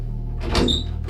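A cupboard door in a very old house creaks open with a short squeak, a single brief close-range sound over a low steady hum.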